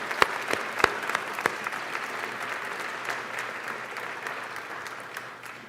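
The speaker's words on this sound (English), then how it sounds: "Let's give them a round of applause." An audience at a physician assistant class inauguration ceremony applauds, a dense wash of clapping from many hands with a few sharp close claps at the start, holding steady and then slowly fading, with no voices over it.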